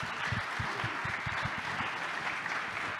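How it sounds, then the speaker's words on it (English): Sustained applause from a conference audience for a panel at a Money 20/20 session, dense steady clapping that holds at an even level throughout with no talk over it. "Please give them a round of applause."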